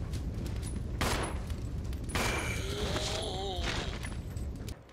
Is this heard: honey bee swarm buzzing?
no